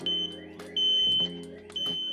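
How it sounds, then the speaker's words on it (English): Xsense smoke detector alarm sounding in loud, piercing beeps, three separate bursts with short gaps between them, alone and close by. "the Xsense smoke detectors will alert you when they have been triggered"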